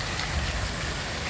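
Steady rain falling outdoors in West Palm Beach, a continuous even hiss with a low rumble underneath, moderately loud and unbroken, with no voices.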